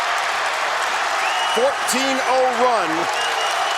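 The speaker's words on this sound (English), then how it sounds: "Listen to this crowd now." A basketball arena crowd cheers during a Davidson scoring run in a 2022 game against VCU, a broad roar of noise running beneath a commentator's voice throughout.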